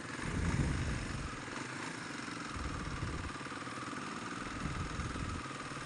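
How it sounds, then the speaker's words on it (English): A 2020 Kawasaki KLX 230 dirt bike engine idles steadily with an uneven, slightly rough putter, close by and moderately loud throughout. "Engine sounds a bit funny."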